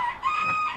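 Pet hens in a winter coop give a brief, close cluck with a few high, tonal notes.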